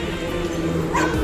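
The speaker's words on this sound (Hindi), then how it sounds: "कुत्ता मुझे देख के बहुत ज्यादा भौंक रहा है" A dog barks and yips nearby at a vegetable market in Kumarghat, a short agitated burst over a background rumble.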